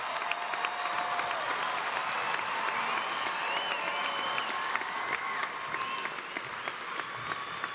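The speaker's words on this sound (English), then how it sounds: "let's give another round of applause for all of our graduates" Steady, sustained applause from a large crowd at a university commencement for graduates, dense clapping filling the whole stretch without letting up, with a few faint cheers mixed in.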